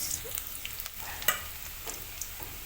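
Chopped onions fry in hot oil in a pan until brown, alongside soybean chunks and potatoes already fried, giving a soft, steady crackling sizzle with scattered light stirring taps and no talking.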